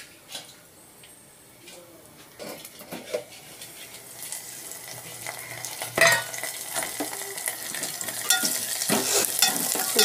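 Dry fish sizzles in a pan while a utensil stirs and scrapes it, with clicks and clinks of metal over a crackling fry that grows louder toward the end.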